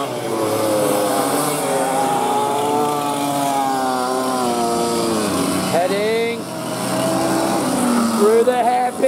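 Two-stroke KT100 junior racing karts pass on a track with a loud, buzzing, high-revving whine whose pitch swoops as they go by, under a commentator talking throughout.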